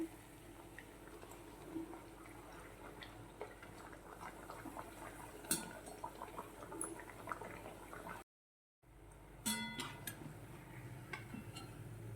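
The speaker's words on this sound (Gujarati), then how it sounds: "તો આવી રીતે જ આપણે બધી પૂરીને તળી લેવાની છે" Spinach and semolina-flour puris deep-fry in hot oil with a quiet, continuous bubbling fizz and occasional faint utensil clinks, cut by a brief dropout of silence partway through.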